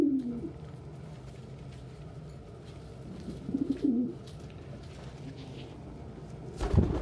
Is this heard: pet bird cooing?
yes